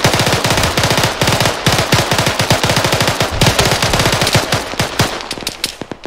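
Automatic rifle fire in Arma 3, loud and close, long rapid bursts of shots with short gaps between them and a few sparse single shots near the end.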